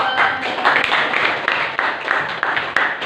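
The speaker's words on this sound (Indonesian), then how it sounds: "tepuk tangan dulu" A classroom of students claps together after naming Indonesian ethnic groups, a dense, steady patter of many hands that stays fairly loud and even for a few seconds.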